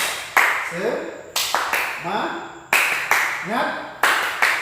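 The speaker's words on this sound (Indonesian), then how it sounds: "kita tepuk semangat dulu" A group in a classroom performs a rhythmic cheer, with sharp bursts of unison clapping repeating about once a second, each followed by chanted voices rising in pitch.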